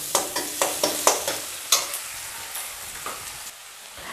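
Carrots and onions frying in a pan for mixed vegetable noodles, with a string of close, sharp stirring scrapes over a soft sizzle, fading to quieter frying.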